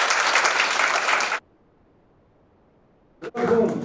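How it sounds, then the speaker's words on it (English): An audience at a foundation's annual day event applauds its donors in a full, dense burst. The applause cuts off abruptly into silence, then another burst of clapping follows. "Let's give a round of applause for them."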